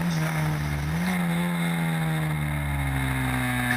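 Historic Formula Ford race cars at Oulton Park, one engine droning loudly and steadily with a slight pitch rise as it carries through a bend, other cars sounding faintly behind it.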